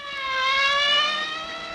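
A police siren wails in a steady, rising-and-falling tone, fairly loud and alone, swelling briefly before easing off.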